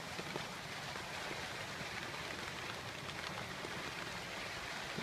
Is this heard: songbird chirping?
no